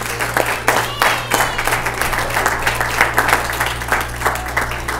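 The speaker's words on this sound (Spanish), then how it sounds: "Así que démosle un fuerte aplauso al Señor" A church congregation claps and applauds loudly and steadily in a Spanish-language worship service, with a low hum running beneath the dense, continuous applause.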